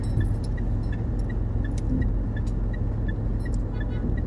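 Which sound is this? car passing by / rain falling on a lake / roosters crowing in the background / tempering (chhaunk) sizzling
car passing by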